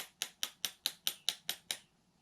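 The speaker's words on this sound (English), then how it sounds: "I'm just going to take the nail and hold it there. I have a small little hammer." A small hammer taps a nail against a roll pin in an AR-15 bolt carrier group eight times in a quick, steady rhythm, each sharp metallic click ringing briefly, close up and alone.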